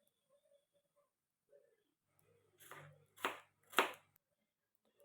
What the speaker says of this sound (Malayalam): സവാള അരിഞ്ഞെടുക്കാം.